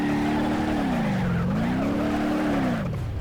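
Car drifting in BeamNG with power to the rear wheels only, a loud sustained tire squeal wavering up and down in pitch over steady engine drone, continuous for the whole stretch.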